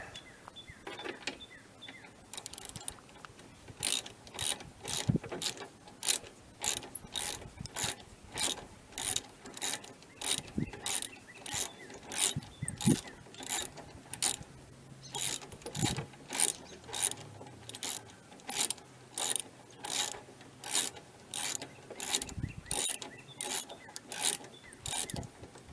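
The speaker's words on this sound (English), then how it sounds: "Switch my ratchet back." Ratchet wrench clicking in rapid, regular bursts while servicing a John Deere E140 lawn tractor, near and fairly loud, with brief pauses between runs of strokes and faint handling noise.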